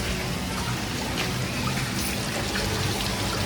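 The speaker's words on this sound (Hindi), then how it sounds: "ये देखो फाउंटेन चल गया।" A small toy water fountain trickles steadily, a close, continuous wash of running water with no pauses, filling the whole short stretch without any talking.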